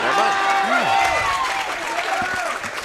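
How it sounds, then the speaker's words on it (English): Crowd cheering and applauding at a 2024 national intercollegiate racquetball championship, a loud wash of claps and shouts with a commentator's voice running over it. "Loud cheers from the crowd."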